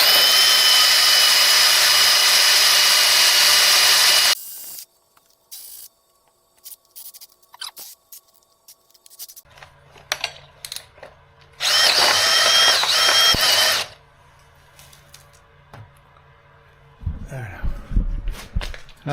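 A power drill running hand-sharpened bits, ground sharp on a grinder, during a Subaru engine swap into a 1982 VW Westfalia: loud sustained whining bursts broken by pauses, handling clatter and a short voice.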